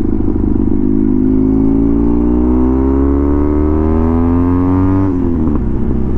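A custom BMW R100 motorcycle engine on a road ride, droning loud and steady as its pitch climbs slowly while it accelerates, then dipping briefly near the end as it shifts gear.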